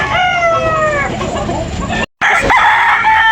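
A rooster crows loudly and close by, then after a brief cut a second call begins, with clucking fowl around it.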